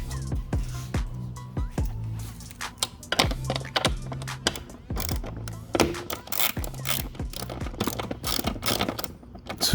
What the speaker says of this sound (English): Take out this 10mm bolt here.